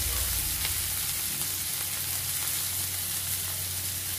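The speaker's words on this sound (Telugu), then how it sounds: "దోరగా వేయించుకోవాలి" Onions, curry leaves and chopped green chillies frying in oil, a dense, even sizzle that holds steady and close throughout with no pauses.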